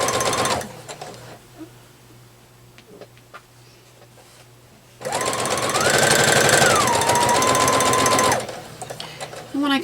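A sewing machine stitches a quilt block seam with a loud, steady mechanical whir and a rising-and-falling motor hum, running in one sustained burst after quieter handling sounds, with brief backtacking at the end.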